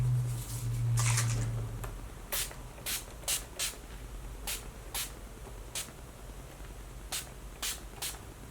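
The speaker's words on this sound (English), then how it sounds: "I'm gonna go ahead and set this with Urban Decay's All Nighter Spray" Repeated short hissing bursts of Urban Decay All Nighter setting spray, about a dozen quick spritzes at an uneven rhythm, close and fairly soft.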